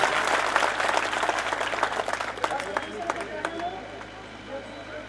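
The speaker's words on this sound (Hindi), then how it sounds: "एक बार जोरदार तालियों से कम उनका स्वागत तो करिए।" Crowd applause welcoming a guest at a Hindu gathering in Bhadra, Rajasthan, dense clapping that thins into scattered individual claps as it dies away, with some crowd murmur beneath.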